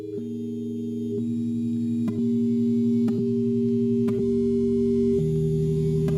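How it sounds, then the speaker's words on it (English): Several steady sine-wave tones sound together, each pitch stepping to a new value every second or so as it tracks stock prices, with faint clicks at each change, held and sustained with no voice. "The price of the stock are simply the frequency of the sine waves."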